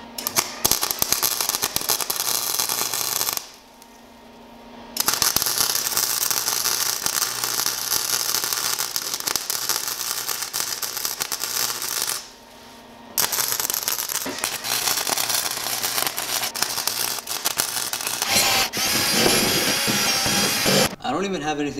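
Flux core welding on a round piece with a Chicago Electric welder, a loud continuous crackling buzz broken by two short pauses, with speech tagged faintly in the background.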